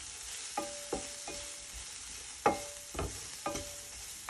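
Chicken frying on low heat with paprika powder gives a quiet, even sizzle, broken by a few sharp scrapes and taps of a spatula in the pan, no voices.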